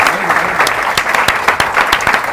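An audience applauds on a Spanish NBA basketball show set in a café, with loud dense clapping and sharp individual claps standing out near the microphone throughout.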